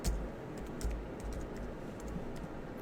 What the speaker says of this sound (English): This has got to be exciting for you to watch me type.